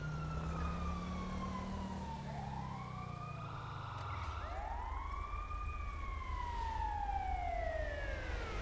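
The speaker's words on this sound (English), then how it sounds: "there's an ambulance" Wailing ambulance siren in the video game LSPDFR, sweeping up and down in pitch and sounding close and loud, with a low vehicle rumble underneath that fades partway through.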